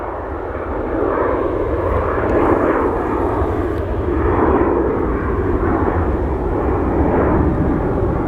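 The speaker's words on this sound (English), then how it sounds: "Here we have a departure of an Alaska 737-900." An Alaska Airlines Boeing 737-900 departing at Portland, a loud, steady, broad jet engine roar heard from outside that swells after the first second and holds.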